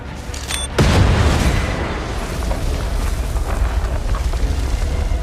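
A deep, heavy explosion destroys an entrance in a Bad Batch animated episode, booming close and loud before a long rumbling roar of debris that holds at a steady level.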